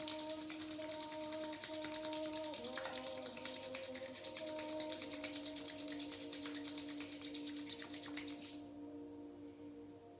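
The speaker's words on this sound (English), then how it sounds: "Bring your palms together, we're going to rub them, creating some heat" Palms rub briskly together during a yoga session, a fast steady swishing friction that runs continuously for about eight seconds and then stops, soft and close over a quiet musical drone, no talking.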